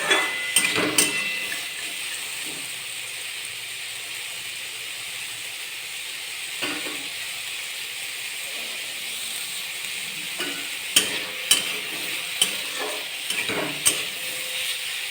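Onion, tomato and charmagaz fry in a pan with a continuous hissing sizzle, broken now and then by sharp metallic scrapes and clicks of a spatula stirring the pan. No one speaks.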